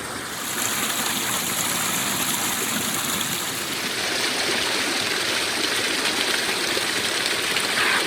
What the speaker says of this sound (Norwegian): Fantastisk bekk.